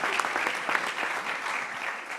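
An audience claps steadily and fairly loudly for a tribute event honoring José Pérez Ocaña, the applause dense and continuous without any voices on top.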